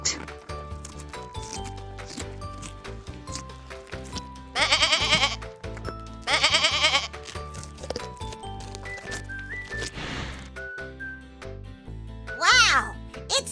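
A farm goat in a children's animal-sound cartoon gives three loud, wavering bleats at intervals over light background music.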